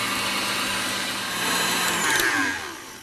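A stand mixer with a tilt head whips Italian meringue for buttercream, a steady loud motor whir with a rising whine toward the end, running alone without talk.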